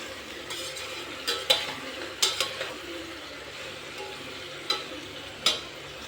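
Quail meat coated in ginger garlic paste fries in sesame oil, a soft steady sizzle broken by a few sharp clinks of a spoon stirring against the pan.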